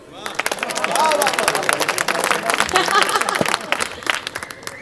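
An audience at a Hindi poetry recital breaks into applause, many hands clapping in a dense crackle of sharp hits that swells quickly, holds, then eases, with crowd voices mixed in.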